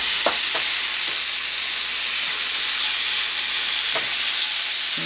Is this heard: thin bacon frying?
yes